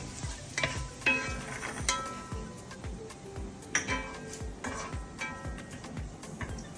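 Doi tadka frying in a pan until golden brown, a soft steady sizzle broken by repeated scraping stirs of a utensil, close by and without talk.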